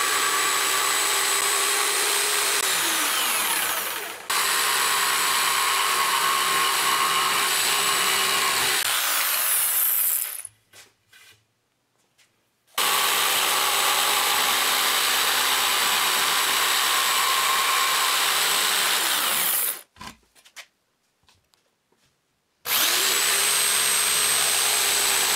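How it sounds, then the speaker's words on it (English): A jigsaw saws loudly through a wooden cabinet base in two long, steady bursts of buzzing cutting, with brief quiet pauses where the blade stops. "I'm going to cut this out now with a jigsaw."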